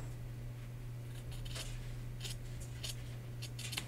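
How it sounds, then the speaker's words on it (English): Scissors trim quilt batting in a series of quiet, crisp snips, several irregular cuts coming close together near the end, with a steady low hum underneath and no talk. "I'm just trimming the batting off here"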